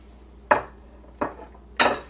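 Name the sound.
bowls being moved and set down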